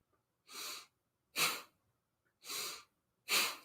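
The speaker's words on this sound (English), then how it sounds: "How does it feel to generate fire with our breath?" Forceful, rhythmic yoga breath-of-fire exhalations, four sharp noisy bursts spaced about a second apart, close and clear against near silence between them.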